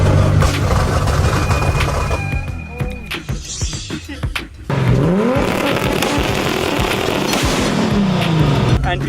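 A 1600 HP Toyota Supra with billet internals and an anti-lag system, loud and close, with sharp pops and bangs over a rough, revving engine and a roaring burst of throttle partway through.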